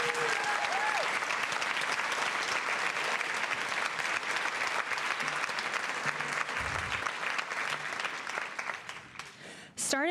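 A school honors night audience claps for a retiring choir director, a broad sustained wave of applause filling the room at moderate level, with a few voices and small noises mixed in near the end.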